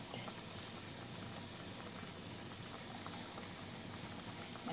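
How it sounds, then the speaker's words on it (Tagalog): A pot of meatball and cabbage soup simmering at a steady low bubble, soft and continuous, with no talking. "Ayan, kumukulo-kulo na siya."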